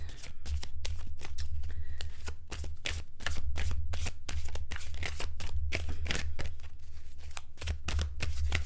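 Close, brisk shuffling of a tarot deck gives a string of papery flicks and taps over a constant low background hum, with no speech.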